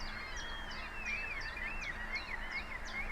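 Birdsong setting in the video game Universe Generator: repeated chirps and warbling whistles over a steady background hiss, soft and continuous with no speech.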